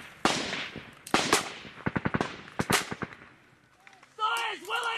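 Soldiers' rifle and machine-gun fire in a combat firefight in Afghanistan, with loud, close bursts and rapid single shots in clusters, followed by shouted voices.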